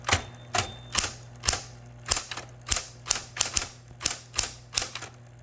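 A typewriter is typed in a steady run of about a dozen sharp, loud key strikes, each with a metallic clack, close by and alone.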